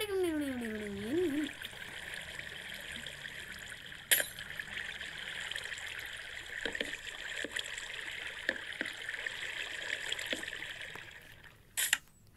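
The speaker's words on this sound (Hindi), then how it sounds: "लग रहा है ना कि पानी गिर रहा है" Flowing water in the Minecraft video game runs as a steady, even stream with a trickling texture, close and continuous, broken by a few faint clicks and one brief rise near the start.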